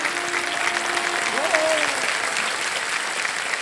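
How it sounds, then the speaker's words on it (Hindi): A studio audience on a televised quiz show applauds steadily, a dense continuous wash of clapping, with a brief voice heard over it midway. "तालियां बज जाएं।"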